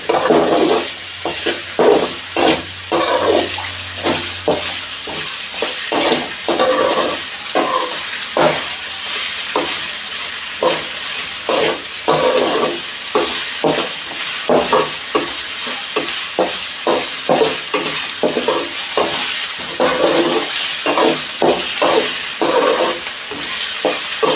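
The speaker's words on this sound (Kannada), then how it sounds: "ಇದು ಸ್ವಲ್ಪ ಕಂದು ಬಣ್ಣ ಬರೋವರೆಗೂ ಫ್ರೈ ಮಾಡ್ಕೊಳ್ಳಿ." Pav bhaji mixture frying in a pan until brown, with a steady sizzle and rhythmic scraping and stirring strokes repeating close up for the whole stretch.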